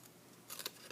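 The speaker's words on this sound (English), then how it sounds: "I'm going to take my paper snips and I'm going to cut on the 2 long edges on that score line" Paper snips cut through scored cardstock for a party favor box, giving a few quiet, crisp snipping bursts in the second half against a soft room hush.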